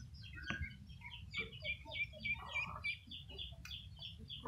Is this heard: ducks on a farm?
yes